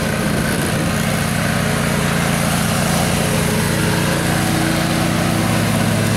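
A lawn mower runs close by, a loud, steady engine drone and whirr that holds throughout without talk.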